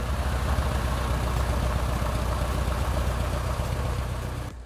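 Steady droning engine of a 601 HDS light airplane, loud and close, holding an even rumble throughout and cutting off abruptly at the very end.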